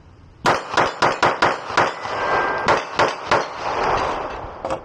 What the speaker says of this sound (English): And this pistol, it just shoots so nice.